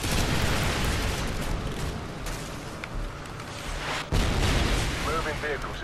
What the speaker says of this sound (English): Roger, firing javelin. Danger close.